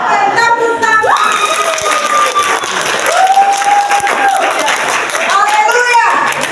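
A church congregation claps loudly and steadily through a Sunday worship service, with cheering and scattered voices mixed in and tonal music sounding behind the applause.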